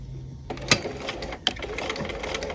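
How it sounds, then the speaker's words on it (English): Sewing machine running a 5/8 inch seam on a tab welt pocket at a 2.5 stitch length, a steady mechanical whir with two sharper clicks partway through, close and alone without talk. "we're sewing a 5/8 of an inch seam"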